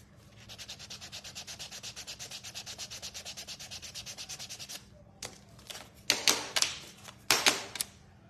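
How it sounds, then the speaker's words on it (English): A craft gnome piece being sanded by hand, with steady rapid rasping strokes for several seconds, then a few louder scrapes and knocks, close up and without talk. "Let me sand this down, fix it."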